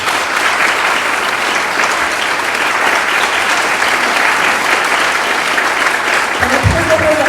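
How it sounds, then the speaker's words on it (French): Steady, loud audience applause fills a festival screening hall as a film guest is introduced, dense clapping holding at an even level throughout with no pause. "qu'on peut applaudir aussi."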